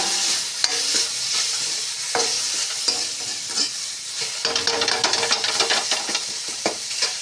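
Cumin seeds go into hot oil for a fish curry with green chilli, tomato and green banana, giving a loud, steady sizzle broken by clinks and scrapes of stirring, with no voices.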